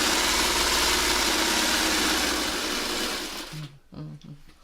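A sewing machine runs steadily while stitching quilt pieces for an eight-point star, a loud continuous whir that winds down and stops near the end, leaving a few soft handling noises.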